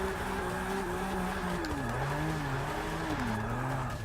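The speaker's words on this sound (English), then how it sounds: "Ooh, that was a bit of a weird gear change." A BMW M635CSI in a racing video game revs hard through a gear change, its engine tone sliding down and climbing again in a steady, moderately loud drone with no talk.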